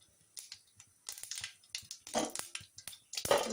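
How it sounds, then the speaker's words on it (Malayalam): Mustard seeds crackle and pop in hot oil while making aloo paratha, a quick irregular burst of small sharp snaps, growing busier toward the end. "കടുകൊന്ന് പൊട്ടി വരട്ടെ."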